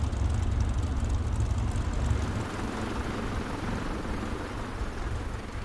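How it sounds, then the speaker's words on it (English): CubCrafters XCub light airplane taxiing after landing, its propeller engine droning loudly and steadily, with a strong low rumble that eases slightly partway through. "I was trying to watch you land, but then I saw that you are taxiing"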